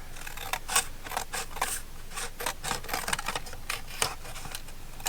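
Scissors snipping through paper to trim a collage piece for a weekly planner, a steady series of crisp close cuts and rustles repeating at an uneven pace.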